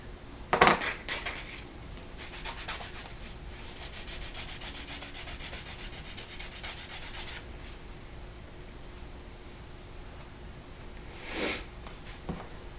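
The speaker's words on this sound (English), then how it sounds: "go ahead and get some wax onto those edges that you just burnished" Wax being rubbed onto freshly burnished edges of a handmade leather card sleeve, a steady close scratchy rubbing that runs for several seconds, with a couple of sharper knocks and brief louder strokes near the start and end.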